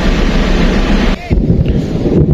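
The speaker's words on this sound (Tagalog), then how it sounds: "lakas na ng hangin, no?" Loud, steady wind roaring and buffeting the microphone in Calatagan, Batangas, under an overcast sky, with a brief dip partway through before the gusting resumes.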